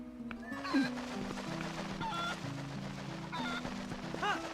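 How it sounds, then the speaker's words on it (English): Golden cuckoo from the Zelda game Twilight Princess, giving short clucking and squawking chirps over busy game music and ambience, with several brief calls spread through the clip. "A golden cuckoo."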